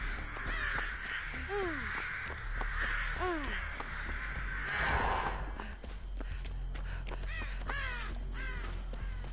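Crows caw repeatedly in a multiplayer survival horror game, harsh calls in bursts of two or three over a low droning ambience with soft footsteps.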